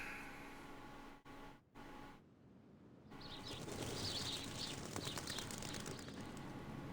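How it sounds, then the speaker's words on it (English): Birds chirp and flutter in an ambient outdoor soundscape from the video game Reverse: 1999, a steady bed of chirps and wing flaps rising after a brief quiet gap, heard faintly without talk. "The sound of birds chirping fills the air."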